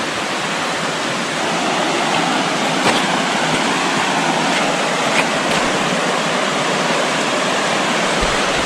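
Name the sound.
river water flowing in Peekamoose Valley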